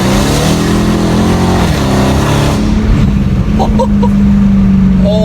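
Engine of a 2015 Dodge Charger SRT Hellcat roaring loud and close under hard acceleration, pitch climbing and then holding a steady high drone through a pull on a short straightaway.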